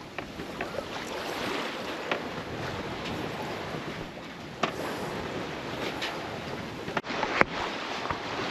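A sailboat running downwind at about nine knots under a broad reach, with steady broadband rush of water and wind along the hull and occasional louder splashes, close and continuous without talk.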